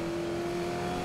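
Pagani Huayra supercar engine in Need for Speed Most Wanted, a steady sustained roar with a strong constant tone, held loud and close throughout with no voices.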